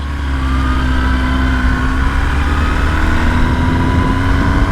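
A 2023 Kawasaki ZX-10RR sport motorcycle ridden through a neighborhood, its engine holding a steady, close, droning hum with faint rising whine tones, under heavy wind rush and with no speech.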